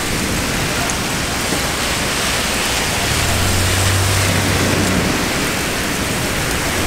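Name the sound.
heavy pouring rain in New York City street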